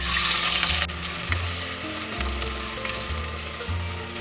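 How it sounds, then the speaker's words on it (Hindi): A large, finely chopped onion frying in hot mustard oil gives a loud, dense, steady sizzle up close, with occasional stirring scrapes and a low intermittent hum underneath. "तेल गरम हो गया, अभी प्याज डाल देती हूँ"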